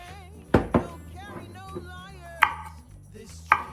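A knife chops garlic on a cutting board for basil pesto pasta, giving a few sharp, close, separate thunks spaced apart, while someone talks quietly underneath.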